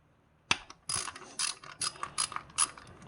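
A ratchet works a 10 millimeter bolt on a 2010 Toyota FJ Cruiser during a spark plug job, sounding as a short run of close, crisp clicking bursts with brief pauses, alone without speech.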